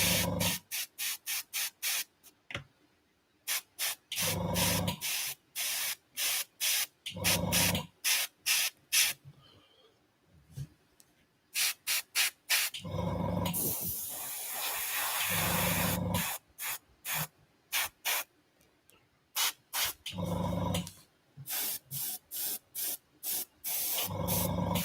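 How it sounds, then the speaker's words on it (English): An airbrush sprays in repeated short bursts, a crisp hiss switching on and off in an irregular rhythm with a few longer continuous passes, close and clear against quiet gaps. "Is the airbrush noise distracting"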